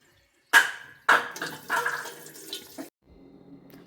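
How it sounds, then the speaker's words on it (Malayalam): Fresh water is poured into homemade arrowroot starch in a container, with two short splashing gushes, then a longer steady pour, then a faint trickle, heard up close. "ഇനി ഇതിൽ വേറെ നല്ല വെള്ളം ഒഴിച്ച് വെക്കുകയാണ്."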